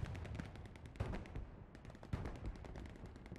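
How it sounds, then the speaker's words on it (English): Rapid bursts of artillery and gunfire in a multiplayer war game, dense overlapping blasts with sharp louder impacts near the start and middle, continuous battle noise throughout with no talk. "some really accurate artillery shells from 107th is actually disrupting the TAW defense"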